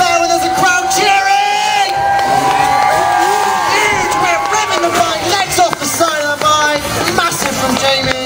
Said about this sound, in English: this rider rides so much better when there's a crowd cheering!